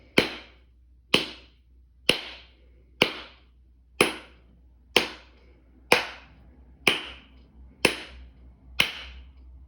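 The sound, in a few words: hand claps counted in a maths game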